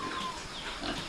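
Pigs on a small backyard farm grunting and oinking close by, a steady layer of several animals' calls with no talk.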